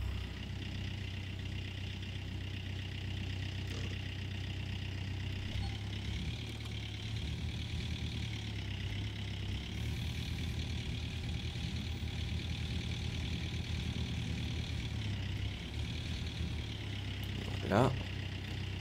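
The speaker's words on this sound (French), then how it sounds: "On va allumer le moteur." A crane engine idles in the video game The Gold Rush, a steady low mechanical hum that runs throughout with a brief knock near the end, while someone talks over it.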